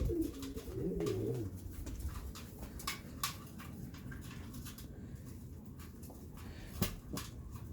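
Pigeons cooing nearby in a loft, several soft throaty coos early on, then quieter rustling, scuffling and a few sharp knocks as two males chase around an egg.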